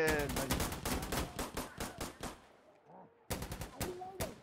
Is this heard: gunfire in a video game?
yes